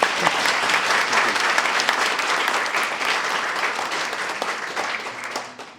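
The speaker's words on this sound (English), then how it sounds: "So I think a round of applause with that." A roomful of guests claps loudly and continuously at a clan chief recognition ceremony dinner, dense applause that tails off slightly near the end.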